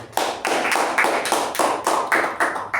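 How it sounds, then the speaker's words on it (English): A small meeting group gives a short round of applause: a few people clapping in a steady, fairly close rhythm of distinct hand claps, with no talk over it. "Let's give a round of applause to Toastmasters."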